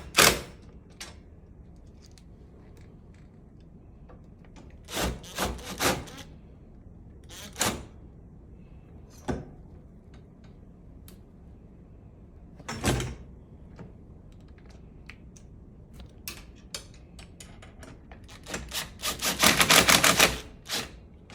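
Short bursts of a power driver with an 8mm bit drive screws into a Flexsteel reclining mechanism, separate whirring runs spaced apart with clicks and handling noises between, the last run longer and louder.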